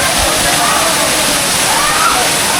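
Loud, continuous rush of water flowing and splashing in a scenic outdoor spot in Purulia, a dense, steady roar close by, with a voice faintly talking beneath it.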